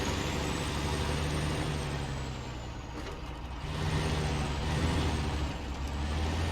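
A big modded truck in Snowrunner grinds slowly onto a trailer, its heavy engine droning steadily with a high whine rising and falling, alone without voices.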